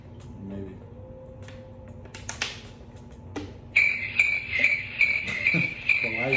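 Cricket chirping sound effect kicks in midway, a steady high pulsing trill that carries to the end, after scattered clinks, taps and faint talk in the room.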